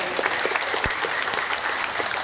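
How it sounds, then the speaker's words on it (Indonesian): Brisk, continuous clapping from a crowd gathered at a social aid handout, even and fairly close, with no talking over it. "Ya saya tepuk tangan buat teman-teman ojol yang luar biasa."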